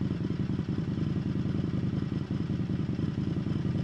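Indian FTR 1200 S motorcycle with black-painted exhaust, a loud, steady low burble heard up close with a faint mechanical clatter running underneath.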